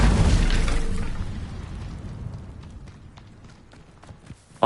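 An Incendio fire spell erupts in Hogwarts Legacy with a loud, close whooshing blast that slowly fades into scattered crackles and small pops, ending in a sharp knock.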